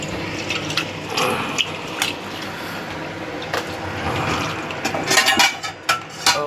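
Water splashing and pouring while a cooking pot is rinsed in a kitchen during beef curry preparation, a steady close gush with a few louder clatters and splashes toward the end.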